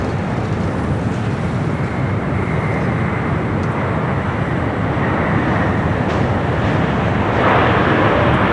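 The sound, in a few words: Air New Zealand Boeing 777-300ER arriving at LAX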